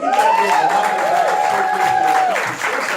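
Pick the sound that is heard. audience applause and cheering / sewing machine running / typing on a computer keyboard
audience applause and cheering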